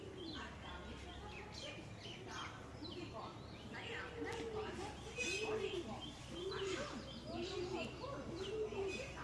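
Pigeons coo repeatedly in a loft, giving soft rhythmic calls with some chirps. Low background noise runs underneath the birds.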